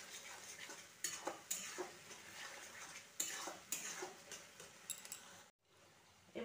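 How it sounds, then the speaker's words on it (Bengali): Spice paste sizzling in a pan as a spoon stirs and scrapes it for a Rajasthani-style curry, with repeated close clinks and scrapes over a steady frying hiss and a brief pause near the end. "ভালো করে এবার আমি মশলাটা কষাতে থাকবো"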